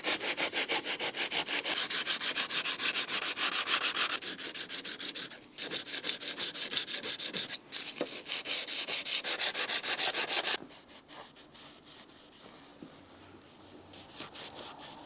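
Rapid back-and-forth sanding strokes rasp close by in a steady rhythm on the rusted rear side window frame of a Mercedes-Benz S123 300TD, pausing briefly twice, then continuing more softly toward the end.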